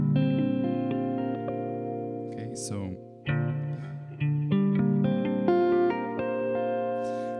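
Guitar harp harmonics played through effects ring out as layered, sustained bell-like tones with echo and chorus, swelling in several bursts; someone speaks briefly at the start.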